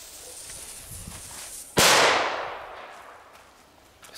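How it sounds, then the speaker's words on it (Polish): A Zanzara 5100 firecracker goes off once, a sharp, loud bang a few metres away, followed by a ringing decay that fades over about two seconds in an otherwise quiet outdoor setting. "Odpalamy naszą petardkę."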